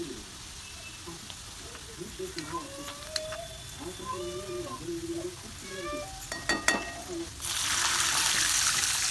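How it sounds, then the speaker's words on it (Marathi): Water poured into a pan of browned fried onions hits the hot oil in a loud burst of hiss and gush near the end, after quieter sizzling and stirring with brief voice-like tones. "बघा त्याच्यात असं पाणी टाकून घ्यायचं."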